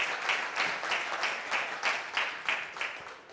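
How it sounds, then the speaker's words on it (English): Applause from an audience at a DXN Europe leadership camp, honoring participants; a broad, steady wash of many hands clapping at moderate distance, swelling in gentle waves throughout. "A round of applause for you."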